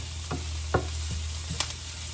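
Pork frying in a pan, a steady sizzle with a few sharp scrapes and clinks from stirring, close and alone with no talk.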